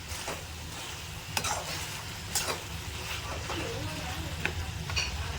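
Chicken with tomatoes frying in a pan, a steady close sizzle with scattered scraping stirs and clinks, and faint voice-like sounds now and then.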